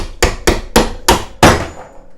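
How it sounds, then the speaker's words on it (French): A hammer taps bolts into place on a bench vise with five sharp, close metallic strikes in an uneven rhythm, the last one the hardest and left to ring out. "comme je vous avais dit, j'utilise un marteau"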